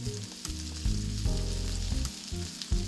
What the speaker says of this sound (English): So we got mushrooms and bacon all cooking together right now